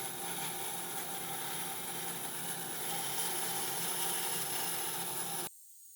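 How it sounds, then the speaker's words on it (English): A saw cuts through a block made of skateboard decks, a steady whining drone that runs unbroken for several seconds and then stops abruptly, leaving a quieter hum. "I'm cutting up the full block in half and then setting the fence to trim off the ends"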